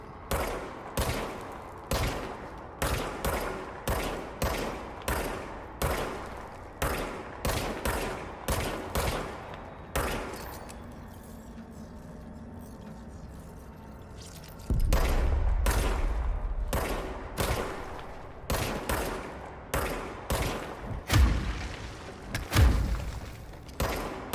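Gunfire from the third-person shooter video game Control comes in rapid, regular bursts of shots, pauses for a stretch of low ambient rumble, then resumes with further shots and deep booming impacts.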